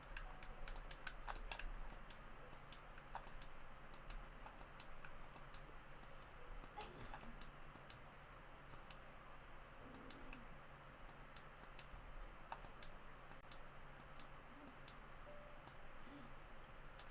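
Scattered clicks of typing on a computer keyboard with one hand, irregular and sparse keystrokes over a steady background hum, fairly quiet and close.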